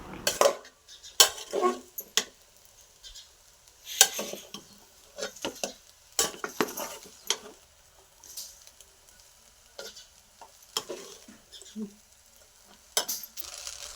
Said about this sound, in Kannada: ಸೋಯಾ ಸಾಸು ಮತ್ತು ಸ್ವಲ್ಪ ಫ್ರೈಡ್ ರೈಸ್ ಪೌಡರ್ ಹಾಕಿ ನೀಟಾಗಿ ಮಿಕ್ಸ್ ಮಾಡಿ